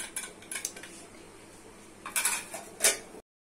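Gram flour batter with turmeric, chilli, cumin, coriander and salt being mixed in a bowl, heard as bursts of spoon-on-bowl clinks and scraping, ending with a sharper clatter before cutting to silence.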